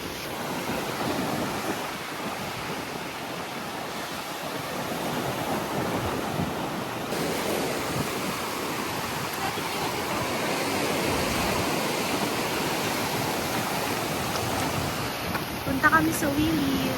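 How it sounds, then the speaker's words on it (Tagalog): Ocean waves at Boracay beach, a steady loud wash of surf rolling continuously, close by and mixed with wind buffeting the microphone, with faint voices near the end. "Grabe yung alon."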